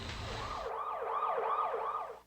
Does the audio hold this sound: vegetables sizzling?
no